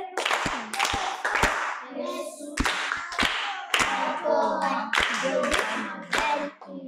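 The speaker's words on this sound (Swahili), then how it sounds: "Tuongeze makofi kwa ajili yake." An audience claps in a rhythmic, evenly spaced beat for a student, with voices mixed in among the sharp hand claps.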